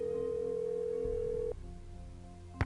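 A single steady ringback tone sounds on an outgoing telephone call in a Nancy Drew computer game, held evenly, then cut off as the line connects, followed by a quiet click.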